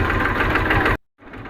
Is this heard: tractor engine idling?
yes